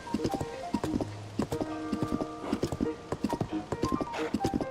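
Horse hooves clip-clop in a steady galloping rhythm while riding in the video game Zelda: Tears of the Kingdom, loud and close over a tuneful game music score, with an occasional whinny.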